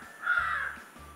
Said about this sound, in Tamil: நம்மளோட அனதர் பார்ட்னர் காக்கா வந்தாச்சு இந்த வீடியோலையும்